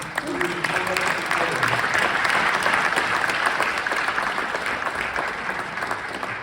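Loud, sustained applause fills a USPS commemorative Forever stamp dedication ceremony as the crowd honors post office workers, with a voice briefly heard early on amid the clapping.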